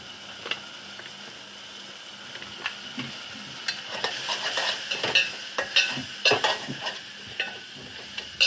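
Tomatoes fry with turmeric and kuzhambu powder in a pan for a Tamil appalam kuzhambu, hissing steadily under repeated scraping stirs of a spoon that grow busier toward the end. No one speaks.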